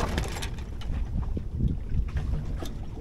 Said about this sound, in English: And you can hear the sail now.